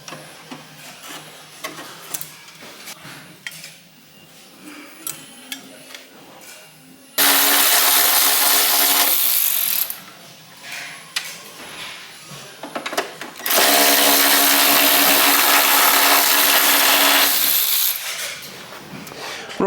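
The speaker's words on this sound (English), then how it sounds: "And then we've got to drill these rivets out." A power drill bores out rivets on a Land Rover Defender, two loud sustained bursts of whining drilling, about three and six seconds long, separated by quieter handling clatter.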